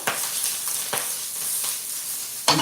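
Sausage, green onion, mushroom and celery sizzle in a hot pan, a steady frying hiss broken by a few sharp crackles and a louder burst near the end, close and without talk.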